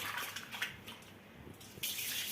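Water splashes and runs as grains are rinsed by hand for coconut dosa batter made without urad dal, a soft, close sloshing with a brief stronger gush near the end, no voices.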